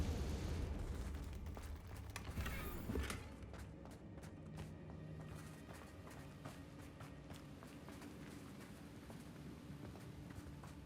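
A Confringo fire spell bursts in Hogwarts Legacy, a loud crackling blast over the first three seconds that then fades into a softer, scattered crackle and rumble.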